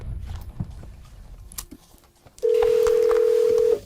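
A telephone tone, steady and loud, sounds in the second half after a few quiet clicks and rustles, as someone places an urgent call to order a money transfer.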